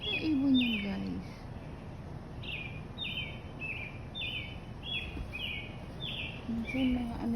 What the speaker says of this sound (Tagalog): Kung hindi bluebirds, morning dove.